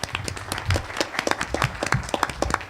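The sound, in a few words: audience round of applause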